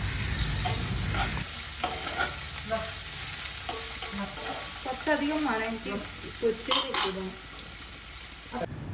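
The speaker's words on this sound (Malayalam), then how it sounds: "ആ ഒരു ഉള്ളിയില്ലേ, അത് ഇതിലേക്ക് ഇട്ട് കൊടുത്തിട്ട് ഒന്ന് നല്ലോണം തന്നെ വഴറ്റി കൊടുക്കുക" Onions sautéing in a pan for a Malabar-style beef fry, giving a steady close sizzle and frying hiss with repeated stirring scrapes and light clinks of a utensil against the pan, and no talking.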